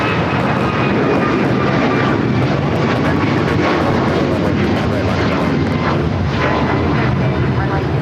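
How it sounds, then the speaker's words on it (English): A United Airlines Boeing 737 MAX 9 takes off at LAX, its jet engines producing a loud, steady broadband roar that fills the whole clip, with brief talk audible beneath it. "This is United Airlines 2443 taking off to Cleveland, Ohio on the MAX 9"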